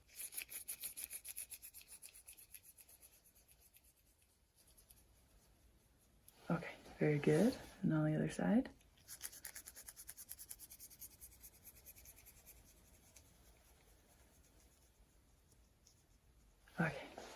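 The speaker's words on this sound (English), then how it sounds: "I'm just going to be rubbing my fingers together" Fingers rub together beside the ear during an ASMR hearing-test roleplay, a faint soft rustle close by, with a quiet voice speaking softly partway through.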